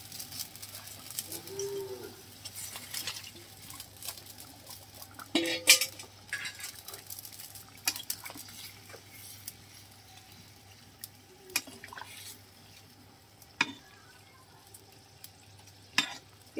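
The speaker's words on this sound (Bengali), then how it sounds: "এদিকে ফুলকপি আলু মাছ ভাজা দিয়ে সেরে ভালো করে মিশিয়ে নিচ্ছি।" A spoon stirs and scrapes through a pan where fried fish, cauliflower and potato are being mixed into a simmering curry. Soft clinks and intermittent metallic knocks sit over a faint, steady background hum; it is quiet and close, without speech.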